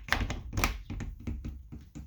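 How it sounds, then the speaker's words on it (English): Barn doors in a Forest River Cardinal 3600 RV are latched with a series of close wooden taps and thunks, two louder knocks followed by several lighter, evenly spaced clicks. "Make sure you latch these barn doors right down there when you travel."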